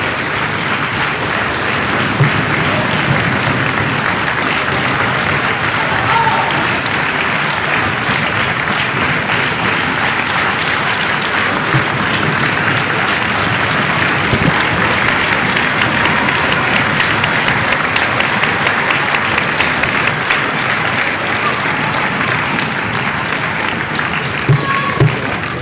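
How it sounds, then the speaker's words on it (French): Sustained, loud audience applause fills a hall at a local awards evening in Soustons where trophies are handed out, a dense steady wash of many hands clapping that continues unbroken for the whole stretch with no voices standing out. "Je vais l'applaudir bien fort."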